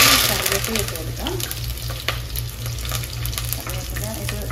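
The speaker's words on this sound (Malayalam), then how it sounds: "ഇനി കറിവേപ്പില ഇട്ട് കൊടുക്കാം." Curry leaves drop into hot oil with mustard seeds that have mostly finished popping, for a Kerala-style shark curry with kudampuli, giving a steady close sizzle and crackle that holds throughout with no talking.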